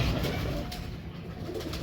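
Pigeons coo softly in low, throaty murmurs, with a faint background hiss and no voices.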